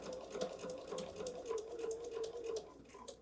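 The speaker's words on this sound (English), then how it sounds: "I use the needle down function on the machine, and I'm going to pivot." A home sewing machine stitches a small patriotic fabric pillow with a steady, fast whirring hum and rapid needle clatter, fairly quiet and close.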